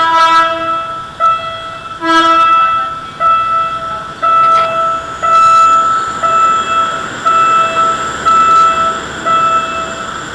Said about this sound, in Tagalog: Nada na train